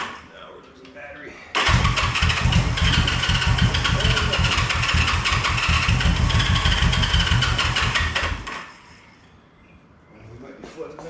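A 1974 Honda CB360 motorcycle engine, started after sitting in storage with gunked-up carbs, fires and runs loud and close for about seven seconds with a steady rough idle, then cuts out, leaving quieter background sound.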